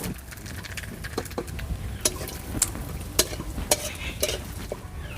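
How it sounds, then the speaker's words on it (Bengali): Nigella seeds and a bay leaf crackling in hot oil for a village-style hilsa fish curry, a dense close sizzle punctuated by sharp pops and occasional utensil clicks. "এই তেলের মধ্যেই ফোড়নে দিয়ে দেবো কালো জিরে আর একটা তেজপাতা"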